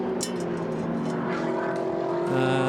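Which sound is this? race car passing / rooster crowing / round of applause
race car passing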